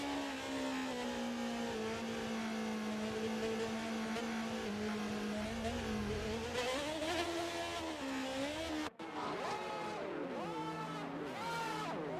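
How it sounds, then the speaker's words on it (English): F1 22 race cars drive to the starting grid in the video game, a steady, loud engine drone that rises and falls in pitch, with revving swells and a brief cut before the engine note changes. "As the cars make their way back to the starting grid to form up and get ready for lights out"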